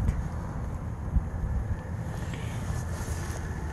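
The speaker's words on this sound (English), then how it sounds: "But it's been really, really windy here." Strong wind blows steadily at a truck campsite, a continuous low rumbling roar with gusty buffeting against the microphone, heard alone without speech.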